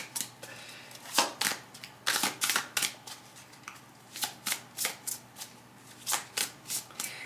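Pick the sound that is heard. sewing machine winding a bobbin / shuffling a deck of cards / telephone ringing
shuffling a deck of cards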